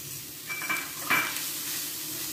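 Boiled soya granules are stir-fried with onions and spices in a pan to dry out the moisture, giving a soft, steady sizzle with a couple of brief scraping stirs, close and fairly quiet.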